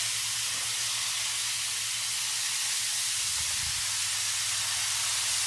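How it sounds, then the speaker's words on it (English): Water steams and hisses steadily across a hot Blackstone griddle top being cleaned of leftover residue, a broad continuous wash of sizzle with a low hum underneath and a brief swell near the end. "I like to put a little water on here just to make sure there's no extra residual flavors."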